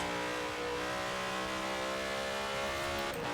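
Supercharged Zenvo TSR-S hypercar engine in Forza Horizon 4, a loud sustained drone with steady harmonic whine, briefly dipping near the end as if shifting, alone with no talk.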